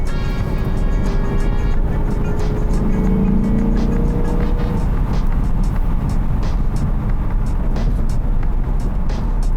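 Deep V8 exhaust growl pours from the quad tips of a 2023 Lexus IS500 F Sport heard from inside with windows down, a steady loud roar with a rising engine note early on under road rumble.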